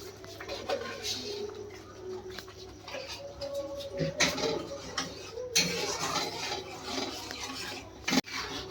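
Tamarind chutney with sugar cooks on a low flame, a soft bubbling and stirring scrape close by, with intermittent louder clinks and rasping strokes.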